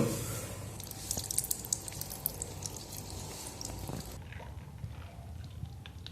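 Lemons are squeezed by hand into a wide pot of mutton dum biryani, giving close, wet squelching with scattered drips and small splashes. It turns quieter toward the end.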